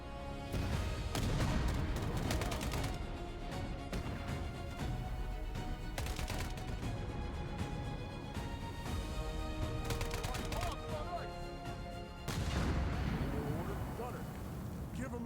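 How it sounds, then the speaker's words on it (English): Bursts of gunfire and booming cannon blasts from the War Alert video game, repeated in a steady barrage at moderate loudness, with speech running over the action. "Fire at will! Shoot!"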